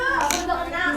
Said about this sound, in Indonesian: Ayo tepuk.